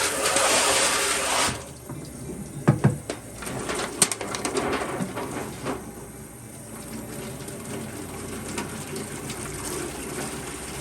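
Water gushes briefly into an aluminum pan, then trickles and splashes more quietly, with occasional light knocks.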